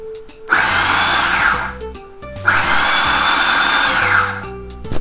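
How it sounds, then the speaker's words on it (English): An electric chopper whirs through sunflower seeds for a gluten-free cracker recipe, running in two loud sustained pulses about two seconds each with a short pause between, heard close up. "2/3 cup sunflower seeds, and we're just going to chop them up a little bit more."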